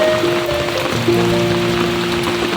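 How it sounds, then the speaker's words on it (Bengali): Rain falls in a steady, broad hiss that stays even from start to finish, with a faint tonal hum running underneath. No one speaks. "বৃষ্টি নেমেছে।"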